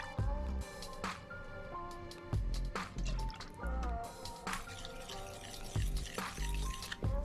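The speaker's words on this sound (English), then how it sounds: "Add 1 teaspoon each of soy sauce, mirin and sake to 130 ml of water." Soy sauce, mirin and sake poured into 130 ml of water, a series of close, small splashes and drips with short gaps between pours.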